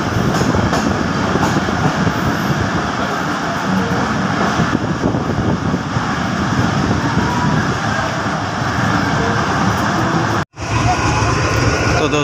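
A train pulls into Tando Adam railway station with a loud, continuous rolling rumble and clatter close by, steady throughout apart from a brief dip near the end.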